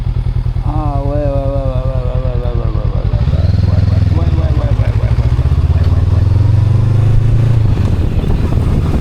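A motorcycle runs loud and close on small roads, idling with a rough chug, then pulling away and building into a rising, steady drone as it rides. A voice talks over the engine at the start.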